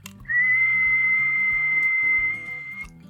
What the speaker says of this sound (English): let's just go ahead and give it a good whistle